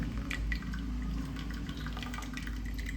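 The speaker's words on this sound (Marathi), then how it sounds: "सगळं पाणी गाळून घेणार आहे हे डाळीचं पाणी काढलेलं आहे" Water from cooked dal strains through in a soft continuous trickle with scattered drips, faint and close over a low steady hum, no voices.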